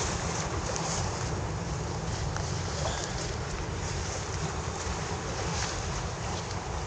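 Strong sea waves wash loudly and steadily at a fishing spot where a baitcasting setup is being field tested, a broad continuous roar with wind buffeting the microphone and no distinct breaks.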